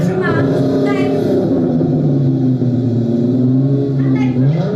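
A car engine revs in a loud, sustained drone, its pitch swelling and easing back over several seconds, heard close and alone.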